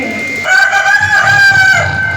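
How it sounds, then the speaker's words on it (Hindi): A rooster crows once, loud and close, a long drawn-out cock-a-doodle-doo that rises and holds before trailing off, alone with no talk. "कई बार आवाज दी मुर्गे ने फिर भी नहीं उठे।"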